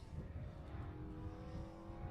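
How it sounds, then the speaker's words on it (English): Ford Escort Mark 1 RS1600 rally car with a 1600 BDA engine coming downhill on an asphalt rally stage, a steady engine drone heard from a distance with no talk over it. "It looks like it is a Mark 1 coming down the hill."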